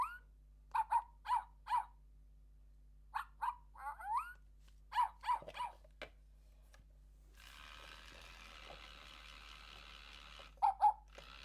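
FurReal Friends Furry Frenzies toy dog gives short electronic yapping barks in quick bursts of two to four, with pauses between, then a stretch of mechanical whirring before a final pair of barks.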